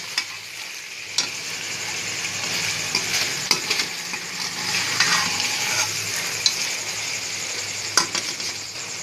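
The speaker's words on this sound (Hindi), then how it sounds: "इसको मज़ीद हम इसमें गोभी और गाजर वगैरह मिक्स करते हैं" Cabbage and carrots stirred and fried in masala for vegetable fried rice, a steady close sizzle with scraping utensil strokes and occasional sharp taps, no voices.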